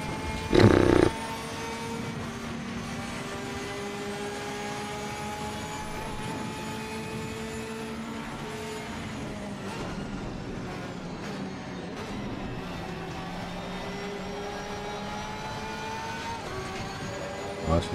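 Mercedes-AMG race car in the Assetto Corsa Competizione racing game: a loud, steady engine drone with rising and falling pitch as it shifts, after a short sharp burst at the start.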